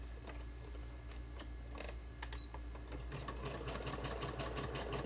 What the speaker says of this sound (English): I'm just sewing fabric, I'm sewing, you know, whatever I've got here.